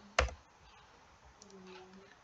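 Computer keyboard keys clicking as a web address is typed, one sharp click followed by faint, sparse taps at close range in a quiet room.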